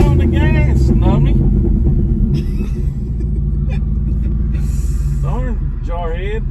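A car engine revving unevenly as a kid learns to drive a manual clutch car, a loud continuous rumble under people talking throughout, with a dip partway through.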